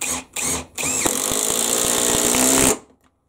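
A Bosch GDR 18V-EC brushless impact driver drives 35mm 14-gauge hex-head stainless steel tech screws without pre-drilled holes, a few short bursts then a loud, steady hammering run of about two seconds that stops abruptly.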